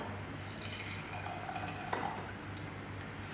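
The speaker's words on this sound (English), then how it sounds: "add the 125 milliliter sodium hexametaphosphate solution to the samples" Faint trickling and dripping of 125 millilitres of sodium hexametaphosphate solution being poured into weighed 50 gram soil samples for hydrometer analysis, a soft liquid splash with one brief louder pour, alone and quiet.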